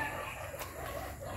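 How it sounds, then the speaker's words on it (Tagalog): Chickens cluck in a backyard vegetable garden, a faint, brief patch of soft clucking heard from a distance. "Ang dami na namang manok."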